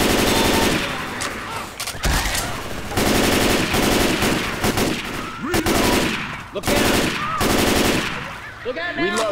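Sustained automatic gunfire from the Left 4 Dead 2 Dark Carnival campaign, with dense rapid bursts and repeated shots through the whole stretch, loud and close, while voices shout faintly underneath.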